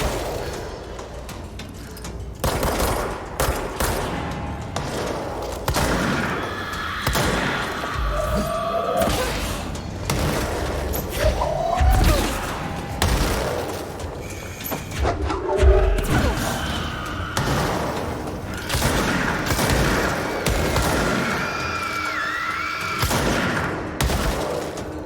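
Enemies blowing up in the video game Control, a run of loud thumps and blasts scattered through a dense, busy game soundtrack, with someone talking intermittently over the action.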